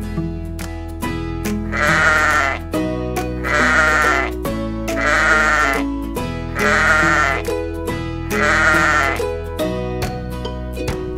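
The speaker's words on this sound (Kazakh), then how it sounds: "Қой." Sheep bleat five times in a regular, evenly spaced series, each call a loud wavering baa set over a steady cheerful musical backing from a children's cartoon about farm animals.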